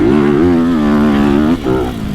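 A two-stroke motocross motorcycle runs on a dirt track with a steady, buzzing engine note close by. The note wavers slightly, dips briefly near the end, then picks up again.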